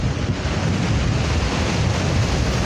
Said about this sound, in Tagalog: Lakas ng dagat, mga kabayan,